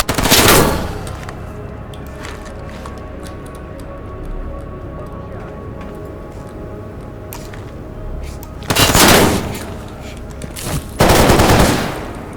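Kalashnikov-style rifle gunfire in the video game S.T.A.L.K.E.R., loud rapid automatic bursts at the start and again near the end, with a quieter stretch of scattered shots and background rumble between them.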